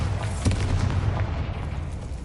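Bombarda and Confringo spell explosions in the video game Hogwarts Legacy give a dense, rumbling burst with a heavy low boom and a sustained crackling roar that fades slightly near the end.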